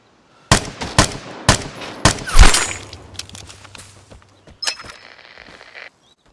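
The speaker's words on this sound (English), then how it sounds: "it took 4 more shots than what was needed to get this man in the back of the head" Several sharp gunshots from the video game Vigor ring out in an irregular sequence, separated by short gaps, with a louder cluster in the middle, some faint mechanical handling sounds, and a last shot near the end, with no talking.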